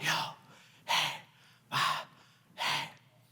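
A voice imitates breathing with four sharp, breathy exhalations spaced evenly about a second apart, each fading quickly, recorded close and alone with no other sounds.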